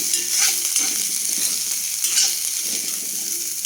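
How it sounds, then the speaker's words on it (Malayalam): Fried potato and onion are stirred in a hot pan, a spatula scraping in irregular strokes over a soft continuous sizzle, close and alone. "കിഴങ്ങ് ഫ്രൈ ആയി വന്നു മൂന്നൂടെ മിക്സ് ചെയ്യാം"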